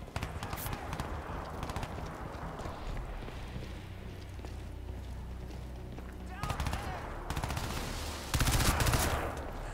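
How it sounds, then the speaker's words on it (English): Gunfire from a weapon in Crysis 2 Remastered, scattered shots and bursts over a busy rumbling background, with a louder cluster of sharp cracks near the end and a voice talking at points. "This is a sick gun."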